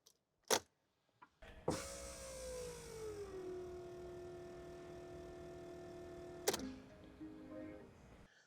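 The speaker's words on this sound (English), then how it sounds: "We're going to switch the ignition on, we're going to hear the fuel pump prime" An electric fuel pump on a diesel vehicle primes with the ignition switched on during a fuel filter change, a steady whirring hum lasting several seconds, with a click at the start and another as it shuts off.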